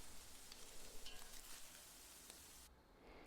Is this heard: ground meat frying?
yes